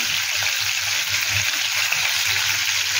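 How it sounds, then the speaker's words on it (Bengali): Hilsa fish pieces fry in a pan of hot oil with a constant, bright, close sizzle and soft bubbling that holds steady through the short stretch, with no voices. "এটা উল্টো দিকটা একটু ভাজা হলে আমি এগুলো নামিয়ে দেবো।"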